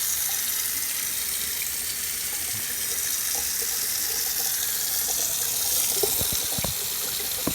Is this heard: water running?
yes